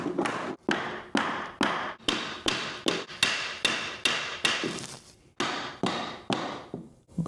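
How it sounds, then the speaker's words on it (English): Hammer beating a part through a scrap trim piece, about a dozen sharp ringing blows in a steady rhythm with one short pause, close and loud. "just beat it with the hammer"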